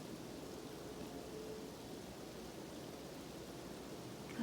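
Sleet falls through trees during a snowstorm at night, making a soft, steady hiss like distant rain that continues evenly, with no voices.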